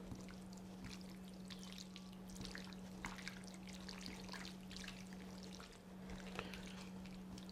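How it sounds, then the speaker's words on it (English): Pork belly is hand-mixed with grated garlic and water for Hakka crispy pork, giving soft wet squelches and small drips repeating irregularly, quiet and close, over a steady low electrical hum. "Now mix this up well."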